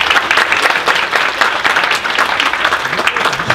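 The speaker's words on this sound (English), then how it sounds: "would you guys give her a hand of applause?" Audience applause at a documentary screening at Joliet West, a steady, dense round of clapping from a crowd that holds evenly throughout at close range.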